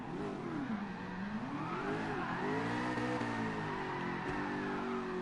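A car doing burnouts at drift practice, engine revving in rising and falling sweeps with tire squeal over a steady roar, moderately distant and continuous with no talk.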